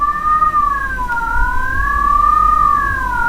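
A police siren in the video game Mafia 2 wails steadily up and down, loud and close, over a low engine rumble, with no talking.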